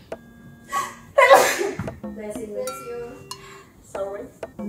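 A woman's sneeze bursts out loudly near the middle, set among casual chatter from a few women in a room, with someone responding right after.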